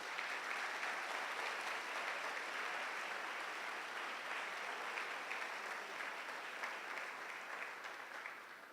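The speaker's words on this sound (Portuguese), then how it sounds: "Só quem acredita dá um aplauso ao Senhor bem forte" A church congregation applauds the Lord in a long, steady roar of many hands clapping, rather distant and soft, sustained for almost nine seconds.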